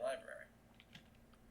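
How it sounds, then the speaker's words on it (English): Soft, sparse taps on a computer keyboard follow a brief burst of voice, faint and close. "So I'm typing something."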